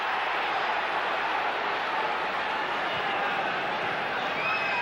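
A football stadium crowd at a 1996-97 Champions League group match between Manchester United and Fenerbahçe roars in a dense, continuous wall of cheering, loud and sustained from start to finish with no pauses.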